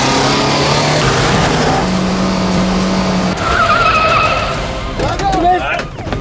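Tires screech as a car skids and rams another vehicle during a police chase, loud, dense crashing and engine noise running throughout, with a sharp squeal toward the end.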